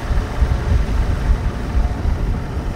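A Bass Cat bass boat engine revs steadily in a continuous low, rumbling drone; the motor is bogging and not running on all cylinders.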